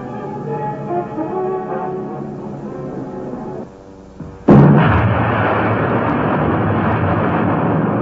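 Wartime bombing raid: a sudden heavy explosion bursts in after a droning, tonal passage and leaves a loud, sustained roaring rumble.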